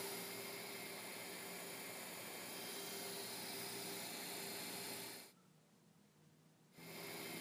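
A Sony AV-3650 EIAJ-1 reel-to-reel video tape recorder runs in playback, its spinning video heads giving a steady, close mechanical whir and hum that drops out abruptly for about a second and a half before resuming.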